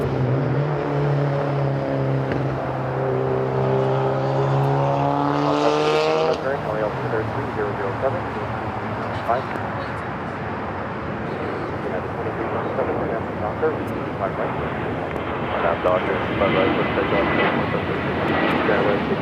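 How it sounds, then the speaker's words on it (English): A Boeing 777-300ER arriving from Paris on runway 25 left at Los Angeles, its jet roar building into a loud, steady rumble that fills the scene; voices talk over the first few seconds. "flight 22 coming up from Paris, a 777-300 ER, next to arrive 25 left"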